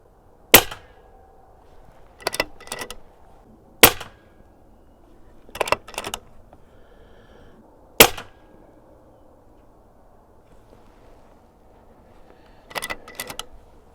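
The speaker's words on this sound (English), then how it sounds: "I wanted to get a couple of test shots in" Rifle test shots fired at a target outdoors during a range check of a DNT Zulus v2 scope, heard as six sharp, loud single cracks spaced a couple of seconds apart, some with a quick echo, over quiet background.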